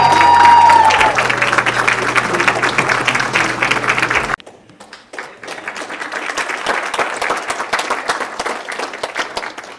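A large audience claps and cheers loudly for a group of men, with whoops and a held voice over the applause; the clapping drops abruptly midway and then continues as a quieter, steady patter.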